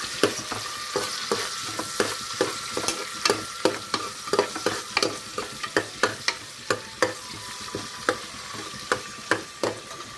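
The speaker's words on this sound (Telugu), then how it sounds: "తర్వాత ఉల్లిపాయ ముక్కలు తరిగి పెట్టుకుని వేసుకున్నాము. కొంచెం వేగనిద్దాము." Chopped onions fry in a pan and are stirred briskly, with sharp scraping taps repeating roughly every half second over a steady close sizzle, and no talking.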